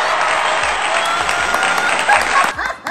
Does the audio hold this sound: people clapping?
yes